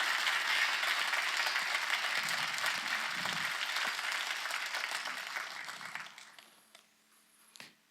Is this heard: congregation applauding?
yes